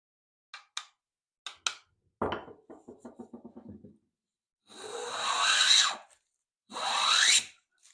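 A hand plane pulls a straight shaving off a wooden workpiece in two long, loud rasping strokes, preceded by a few sharp knocks and a quick rattling series of taps as the plane is set up on a wood hand plane.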